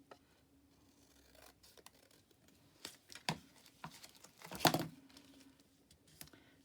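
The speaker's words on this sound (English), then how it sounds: "I'm just going to cut this little crinkly bit off" Scissors snipping off a crinkly bit of paper during a papercraft project, a few quiet, separate snips and crackles scattered through a soft near-silent room, with one louder crunching cut near the end.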